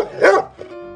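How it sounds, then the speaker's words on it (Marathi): A single short, sharp bark from a dog, close and clear, followed by a faint trailing yip in otherwise quiet surroundings. "तो भुंकू लागला."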